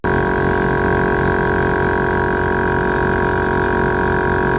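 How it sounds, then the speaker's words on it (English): A 444c air compressor fills an air suspension tank with a loud, steady, close motor drone and a constant high-pitched whine. "I have to say that air compressor there sounds a million times better than my last one"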